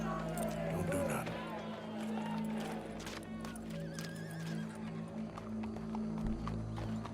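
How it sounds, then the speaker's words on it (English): Horse hooves clip-clop amid whinnying on a busy street during a police scene, with a steady low hum and a crowd murmuring beneath, the hoofbeats close and continuous throughout. "Go brush that horse, officer."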